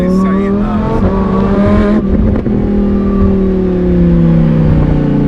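Supercharged Lamborghini Huracan engine roaring loud and close as it pulls hard, with a sharp gear change midway and a sustained droning climb afterward; the engine fills the whole stretch with no pause.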